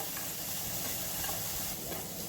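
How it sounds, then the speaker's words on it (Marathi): Chopped onions dry-roasting without oil in a pan over high gas flame give a steady, close sizzle with soft stirring scrapes throughout, no voices. "गॅसची आच मोठी ठेवून कांदा व्यवस्थित मोठ्या आचेवर परतून घ्यायचा आणि तेल न टाकता सुरुवातीला परतून घ्यायचं"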